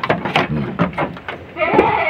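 A Peranakan Etawa goat bleats on a farm in Lampung, a few wavering calls close by, while a person talks over and between them.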